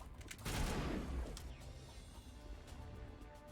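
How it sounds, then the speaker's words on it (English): Gunfire in a Mass Effect firefight, with a burst of shots near the start, then scattered sharp reports continuing over a low rumble, fairly quiet overall. "Who's shooting at me?"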